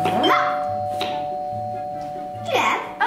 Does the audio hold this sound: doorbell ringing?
yes